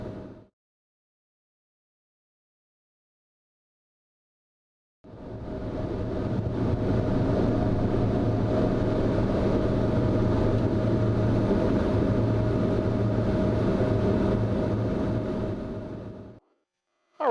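Pilatus PC-12 NG single turboprop engine spooling up to takeoff power, a loud steady droning roar with a constant tone that swells in after several seconds of silence, holds for about eleven seconds and then cuts off.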